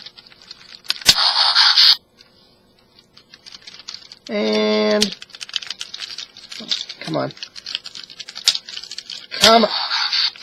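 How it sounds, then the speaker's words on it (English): Short bursts of electronic whirring and buzzy transformation effects from a Transformers Revenge of the Fallen Optimus Prime toy, separated by brief clicks and plastic handling, with a quick spoken remark. "And lastly, those transformation noises."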